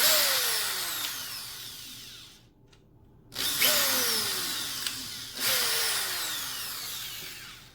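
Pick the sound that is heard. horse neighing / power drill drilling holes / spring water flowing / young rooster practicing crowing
power drill drilling holes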